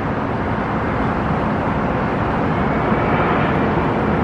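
Small Air Canada plane passing overhead close to Toronto's airport, a steady, continuous broadband engine roar with no breaks, fairly loud and even throughout.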